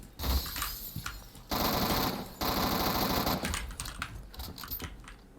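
Rapid automatic fire from an AUG A1 rifle in the video game Phantom Forces, with sustained bursts of crisp shots broken by short pauses and a final scatter of single shots.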